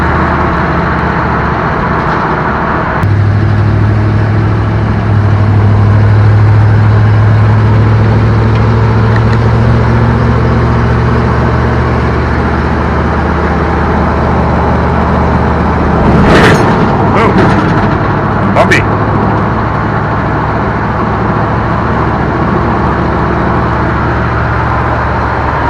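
Engine of a 1958 Plymouth Suburban two-door wagon running on the road during a test drive, a loud steady drone heard from inside with low rumbling tones, bumps and rattles midway.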